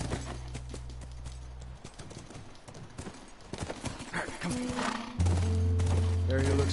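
Horse hooves clip-clop in the video game The Last of Us, a brisk rhythmic clatter mixed with game effects and a deep rumbling hum, with voices talking over it.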